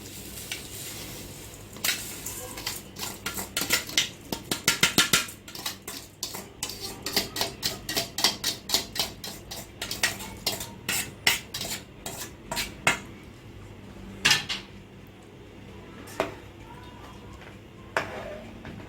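Washed, drained rice goes into boiling water in a pot for fish sayadieh rice, followed by repeated sharp clinks and scrapes of a metal spoon against the pot as it is stirred, with a soft bubbling underneath and some talking.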